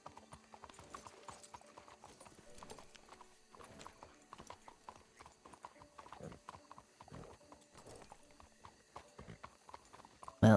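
A horse's hooves clip-clop in a steady walking rhythm, moderately close, with an occasional soft snort or whinny and a brief loud bump at the very end.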